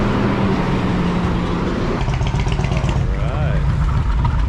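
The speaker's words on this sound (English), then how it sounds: "So we got nice tourist buses walking by." Tourist buses passing along a busy city street in Kuala Lumpur, a steady low engine rumble and traffic roar filling the scene, with people talking over it.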